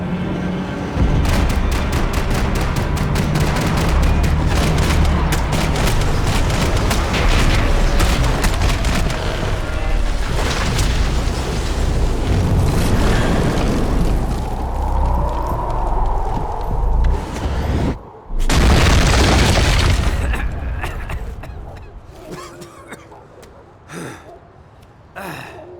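Gunfire and explosions in the Max Payne 3 video game, dense loud bursts of shots and blasts packed throughout, with shouting voices mixed in and a brief drop near the end.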